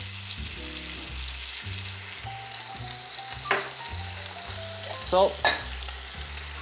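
Cherry tomatoes fry in olive oil in a pan with a steady, soft sizzle, broken by a few clinks and scrapes and a low tonal hum underneath; a single brief word is spoken.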